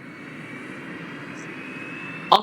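An aircraft engine starting up in the Roblox game Project Flight gives a steady, fairly quiet droning whine that holds evenly, ending in a brief sharp click.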